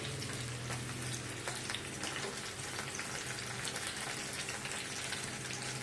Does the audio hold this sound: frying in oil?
yes